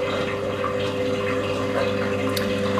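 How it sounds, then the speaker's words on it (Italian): Steady rushing of rinse water draining from a Zerowatt Spaziozero 062 washing machine, a continuous gurgling flow with a constant mechanical hum underneath. "Adesso la macchina sta scaricando l'acqua del primo risciacquo"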